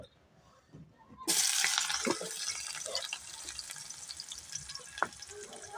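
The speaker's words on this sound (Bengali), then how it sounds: "এখন তেল গরম হয়ে গেছে। এখন আমরা বেরেস্তা দিয়ে দিব।" Fried onions (beresta) dropped into hot oil burst into a loud, bright sizzle that starts abruptly and carries on steadily, with scattered crackles and pops near the pan.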